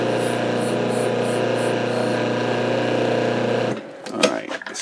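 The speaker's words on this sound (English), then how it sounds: "I take a wire wheel to the threads" A wire wheel spinning against bolt threads while the bolt is held in engineer pliers: a loud, steady buzzing whine that runs for several seconds, then cuts off into scattered clatter and handling noises.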